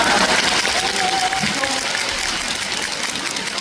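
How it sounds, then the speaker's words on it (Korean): Audience clapping at a conservative reform debate forum, a broad, steady rush of many hands, with a speaking voice over it early on before the clapping carries on alone. "이대모에서 그 박수가 나오는 거예요"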